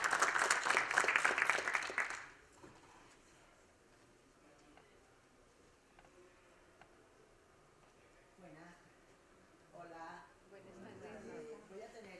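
Panel audience applauds a professor from Universidad del Atlántico at a carnival and samba talk, a loud burst of clapping lasting about two seconds before cutting off into quiet room tone, then speech begins.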